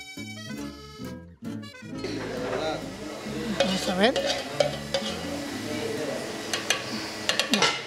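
Seafood sizzles and is stirred in a pan while being flambéed with pisco in a restaurant kitchen, a steady loud frying hiss with scraping and clinks, preceded by a short musical passage and mixed with voices nearby.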